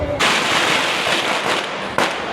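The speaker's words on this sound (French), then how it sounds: "il y a des feux d'artifice partout, des petits pétards" Fireworks and small firecrackers go off during a Chinese New Year street celebration in Chiang Mai, Thailand. There is a dense, continuous crackling roar with a few sharper bangs, and a noisy crowd sits beneath it.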